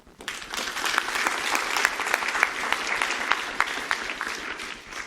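Steady, dense audience applause fills a keynote hall, many hands clapping together at an even level for several seconds with no talking over it.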